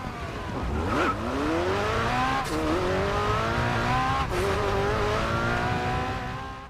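A racing car in Racing Master screams along at high revs, its engine note climbing and shifting through gears, with tires squealing as it corners. The sound stays loud and close throughout, with no talk.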